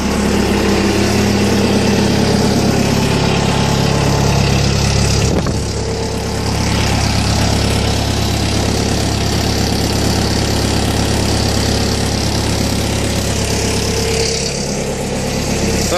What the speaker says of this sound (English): today we're gonna do a cold start on this Bobcat S250